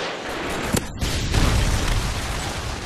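A Predator missile strikes in Call of Duty MW3 multiplayer: a loud, close boom that rolls into a sustained rumbling blast, with a sharp crack just before it.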